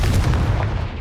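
A Confringo fire spell blasts off in Hogwarts Legacy, a loud, dense booming burst with heavy low rumble that holds steady for about a second with no voices.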